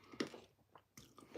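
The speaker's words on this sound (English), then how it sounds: "I keep chewing ice." Ice cubes crunched between teeth, two short crisp bites about three-quarters of a second apart, close and fairly quiet with no talk.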